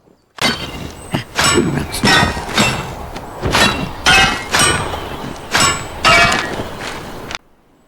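Repeated sharp digital clanks and cracking thuds of a pickaxe mining ore in Albion Online, a steady series of about a dozen hits, loud and close with no talking.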